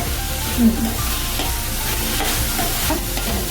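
Food is stir-fried in a pan in a Konkan village kitchen, a continuous close sizzle with soft stirring scrapes, fairly loud and steady, without talk.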